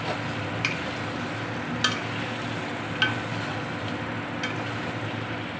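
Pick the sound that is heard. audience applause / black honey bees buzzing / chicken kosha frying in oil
chicken kosha frying in oil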